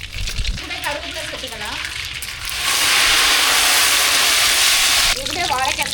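Mustard seeds spluttering in hot oil for a raw banana fry: a steady sizzle swells into a loud, broad hiss for a few seconds, close up, with light clatter around it.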